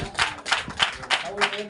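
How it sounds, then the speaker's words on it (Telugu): A church congregation gives five loud, evenly spaced rounds of clapping, close and full-bodied, with talk faintly underneath. "మీరందరూ కూడా బాగున్నారు కదా గట్టిగా అందరూ క్లాప్స్ పడుతున్నామా"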